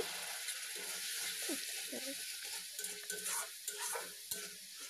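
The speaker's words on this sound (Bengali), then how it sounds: "দিয়ে আমি সমস্ত মশলাটাকে ভালোভাবে কষিয়ে নিচ্ছি।" Spices stirred and sautéed with a splash of water in a pan for a village-style chicken dish, a steady close sizzle with scraping stir strokes throughout.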